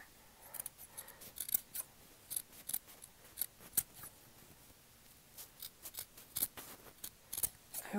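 Scissors snipping close up in a quiet ASMR hair-cutting setting, a steady run of crisp metallic snips and blade slides repeating at an irregular rhythm, soft and intimate with no voice.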